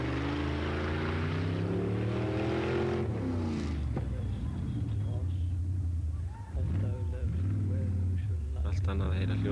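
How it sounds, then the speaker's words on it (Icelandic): Rally car engine running with its carburetors removed, at a 1990 rally event in Egilsstaðir, Iceland, a steady loud roar holding throughout with a brief dip near the end, under a commentator speaking. "Allt annað að heyra hljóðin í vélni eftir að hann tók blöndungana af"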